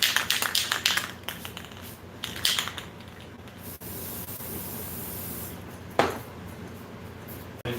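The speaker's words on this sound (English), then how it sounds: "This is spray paint chrome is kind of the chromiest of chromes" Chrome spray paint hissing from an aerosol can in several short bursts at first, then one long continuous spray, a final quick burst near the end, close and fairly loud, no talking.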